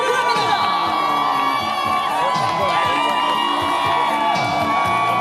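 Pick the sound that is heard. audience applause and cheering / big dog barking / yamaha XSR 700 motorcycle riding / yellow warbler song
audience applause and cheering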